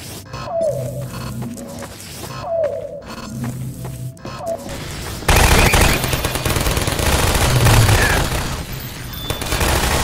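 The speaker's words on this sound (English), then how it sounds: "Freeman, you take care of the turrets." Turret gunfire in Half-Life 2, at first intermittent bursts of rapid shots, then a loud, continuous barrage of automatic fire with heavy booms that dominates the second half.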